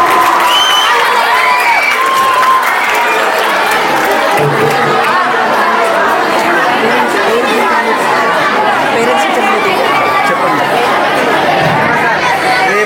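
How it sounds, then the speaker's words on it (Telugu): A crowd of school students at a cabinet election result announcement clapping and cheering together, with loud, dense applause mixed with shouting and chatter throughout. "ఒకసారి సూపర్ క్లాప్స్ గో."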